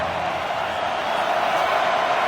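A steady, loud wash of crowd noise fills an Arkansas football stadium on a cold night against Ole Miss, a continuous roar without distinct breaks.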